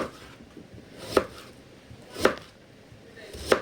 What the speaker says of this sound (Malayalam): ആ കഴുകിയെടുത്ത സവാള മുറിക്കുകയാണ്